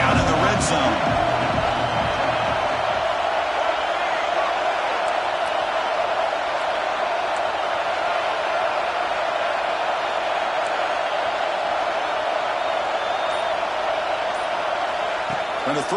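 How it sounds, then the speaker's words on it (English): Football stadium crowd at an SMU versus Notre Dame game roars steadily as the defense holds in the red zone, a broad wash of cheering beneath a commentator's voice that runs throughout. "And the crowd coming to life here, trying to help this defense down in the red zone."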